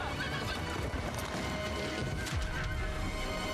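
A fast horse whinnies loudly and its hooves clip-clop at a gallop, mixed with crashing and thudding action sounds, dense and close throughout.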